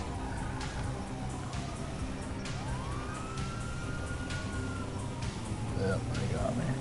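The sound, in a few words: police car siren in the video game GTA 5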